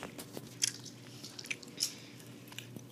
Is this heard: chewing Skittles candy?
yes